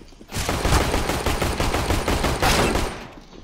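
Rapid automatic gunfire rattles in the video game CS GO. One dense, loud volley runs for about three seconds and then tails off.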